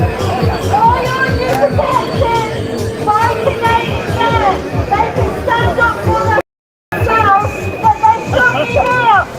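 Protesters massed outside the Roundhouse Hotel in Bournemouth make a dense crowd hubbub, many voices chattering and calling out close around, loud and continuous apart from a brief cutout near the end.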